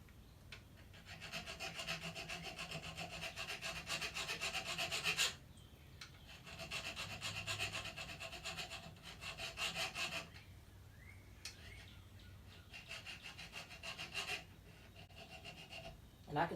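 Metal file rasping along the spine of a CRKT Minimalist Bowie knife, coated steel, in repeated strokes of a few seconds each with short pauses between, close and steady.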